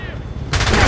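Burst of enemy gunfire in the video game James Bond Blood Stone, a sudden loud rattle of rapid shots cutting in halfway through a short, noisy stretch of game sound.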